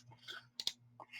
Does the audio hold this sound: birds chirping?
no